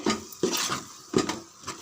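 A spoon scrapes and knocks against a pan as chili-spiced masala is stirred and sautéed for a homemade mutton curry, a few distinct clinks and scrapes with quiet pauses between them.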